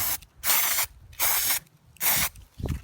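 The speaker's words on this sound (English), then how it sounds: "you want to spray in short bursts with side-to-side motion" Three short, loud hissing bursts from a spray paint can coating a tumbler, separated by brief pauses, with a small rattle or click at the end.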